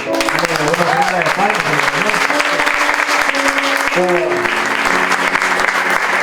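A church congregation claps together in worship, the rhythmic clapping loud and close, with a voice singing or speaking over it throughout.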